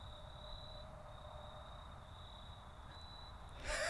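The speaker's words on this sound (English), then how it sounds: "Sometimes you gotta stop and enjoy the crickets, you guys." Crickets chirp steadily at night in a continuous high-pitched trill that runs under a low background rumble, then the sound ends in a brief louder noise.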